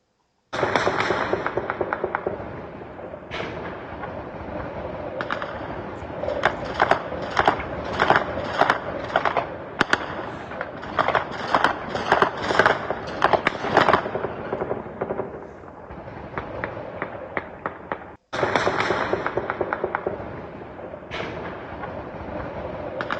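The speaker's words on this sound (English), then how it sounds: "Are we doing celebratory gunfire, or is that the Iron Dome system?" Celebratory gunfire crackles over Kabul as the Taliban mark the departure of U.S. forces: dense, rapid bursts of distant shots rattling almost without pause, broken by one brief gap.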